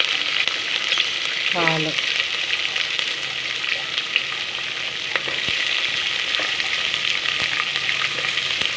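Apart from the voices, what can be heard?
frying lentils, peanuts and green chillies in oil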